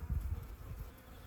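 Honeybees buzzing at an apiary, a low steady drone close by with slight pulsing, fairly faint and without any voices.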